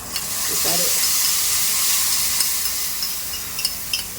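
Spices fry in oil for chana chaat, giving a dense, steady hissing sizzle that holds close and loud throughout, with a few faint clicks near the end.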